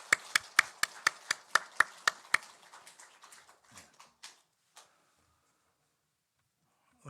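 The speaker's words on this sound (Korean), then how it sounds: "다시 한번 우리 축하의 박수 하시죠." A small church congregation at a Sunday service claps in celebration for honored elders, about a dozen crisp, evenly spaced claps, then a few scattered trailing ones before quiet.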